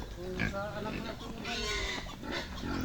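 Pigs at a farm, including a large sow, grunt and snort in rough bursts close by, mixed in with people chatting over them.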